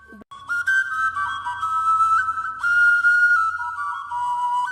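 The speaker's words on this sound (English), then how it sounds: "This unique flute is integral to their cultural activity and event." An Igbo oja, a bamboo flute, plays a sustained, bright melodic line with held notes and gentle pitch shifts, close and steady over a soft rhythmic backing.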